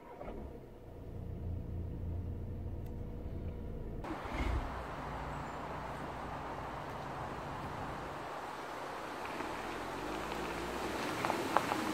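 A Volkswagen Arteon 2.0 BiTDI 240 hp diesel sedan drives along, its engine and road noise forming a steady low rumble heard from inside the cabin, with no talking.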